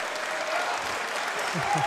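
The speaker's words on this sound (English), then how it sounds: "And the crowd goes wild" Crowd at the Iron Gauntlet 2014 Warmachine and Hordes world championship finals applauding and cheering loudly, a dense steady roar of clapping with a few voices rising near the end.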